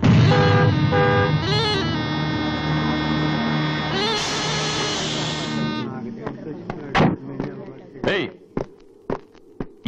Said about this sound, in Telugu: దారి కట్టగా నిల్చొని హార్న్ కొడుతుంటే వినపట్టాలా?